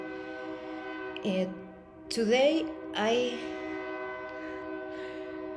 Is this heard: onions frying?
no